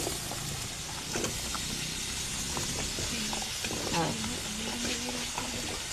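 Vegetables frying in a pan after tomatoes have softened, a steady broadband sizzle with occasional stirring scrapes and clinks throughout, at moderate level.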